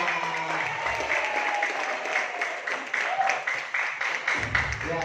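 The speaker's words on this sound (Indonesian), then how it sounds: "Oke, aplaus tepuk tangan untuk kita semua." Audience at a marketing plan training presentation breaks into sustained applause, dense overlapping claps filling the room at moderate loudness, with some talk and murmuring blended in.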